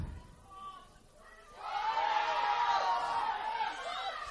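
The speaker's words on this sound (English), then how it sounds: "Crowd is calling for a penalty." Spectators at a women's football match, Macarthur Rams versus APIA Leichhardt, rising into a loud sustained roar and shouting as they appeal for a penalty, after a quieter stretch with a commentator talking.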